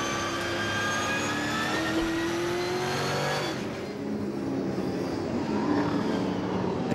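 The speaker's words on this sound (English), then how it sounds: "Take up the end of lap 1 for the V8 Super Tourers, warming these cars up" V8 SuperTourer race cars warming up at the end of the first lap at Hampton Downs, New Zealand, in winter: a continuous, loud engine roar with a rising whine, holding steady as the pack runs on.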